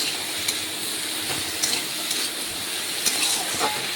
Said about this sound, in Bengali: নাড়াচাড়া করে লবণটা সবজির সাথে ভালোভাবে একটু মিশিয়ে সবজি একটু ভেজে নিচ্ছি।